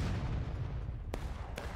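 Cannon artillery fire in the Civil War shooter War of Rights: two sharp, distant booms land about half a second apart over a loud rumbling battlefield din, with no voices.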